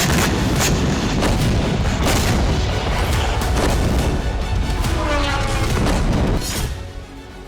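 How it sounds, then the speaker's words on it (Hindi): Heavy bombardment from Ukrainian drone attacks on Russian cities: a dense, continuous barrage of loud booming blasts and rumble that rolls on without pause and eases off in the final second. "इस ऑपरेशन के तहत ज़ेलेंस्की की सेना ने रूस के 10 शहरों में एक साथ जबरदस्त बमबारी की।"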